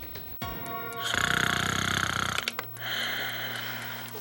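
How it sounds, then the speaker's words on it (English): Loud, rough snoring breath drawn in over a couple of seconds, followed by a softer exhale and a quiet pause; close and alone. "Honey, wake up. You're snoring. It's really bad tonight."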